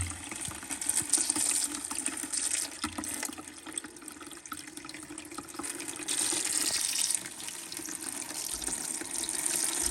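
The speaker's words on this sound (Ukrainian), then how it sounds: "Зараз включу воду." Steady running water pours from a tap while underfloor heating pipe circuits are flushed of sludge at home, a continuous moderately quiet rush that swells slightly at times, with no talking.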